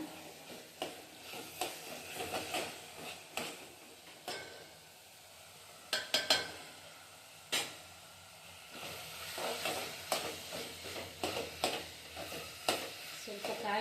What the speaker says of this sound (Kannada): ಟೊಮೊಟೊ ಬೆಂದಿದೆ ಹಸಿ ವಾಸನೆ ಹೋಗೋ ತನಕ ಸ್ವಲ್ಪ ಹುರ್ಕೊಂಡ್ರೆ ಈ ಥರ ಫ್ರೈ ಆಗುತ್ತೆ